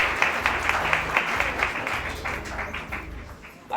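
Applause for the Namibia country director at a Footsteps for Africa community event in Groot Aub, a steady crowd of clapping hands with a low hum beneath, sustained and gradually fading near the end.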